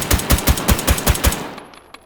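Rapid gunfire strikes drywall in the H3VR virtual reality shooter, seven loud, evenly spaced shots close by before the sound cuts off into a faint tail.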